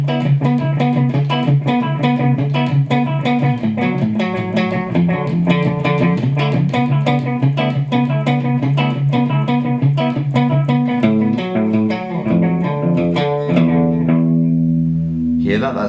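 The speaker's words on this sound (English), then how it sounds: "it's one delay, but with the echo most of the way around, so it's a very wet delay sound" A guitar played through a Donner Yellow Fall delay pedal with feedback turned high, its notes trailing into dense wet echoes that smear into a continuous repeating wash and then ring out alone at the end.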